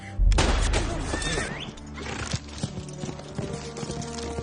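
Horse hooves clip-clop in a Western TV drama, a steady run of hoofbeats mixed with gunshot-like bangs, a whinny and scene noise, fairly loud and busy.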